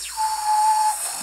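A sustained outward tooth whistle, a steady airy tone held for about a second, close and alone, with breathy hiss around it.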